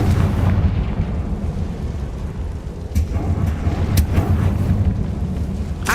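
A Confringo blasting spell explodes inside a tomb in Hogwarts Legacy, a heavy rumbling boom followed by rolling debris and a few sharp crackling bursts, loud and close.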